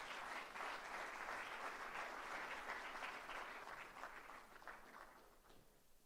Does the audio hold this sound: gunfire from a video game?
no